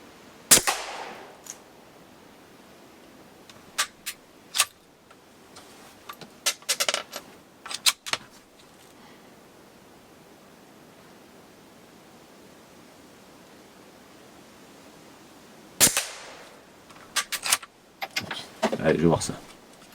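Sharp gunshots from a Citadel .22 Long Rifle carbine fired outdoors on private land: a crack near the start, a few scattered smaller reports, then a louder cluster of shots toward the end, with quiet gaps between.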